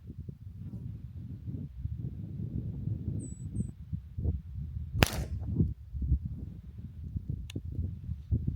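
A single sharp, loud gunshot from a first self-bought gun fired at a target outdoors on a Montana ranch cracks out midway, over steady rumbling wind noise with no talking.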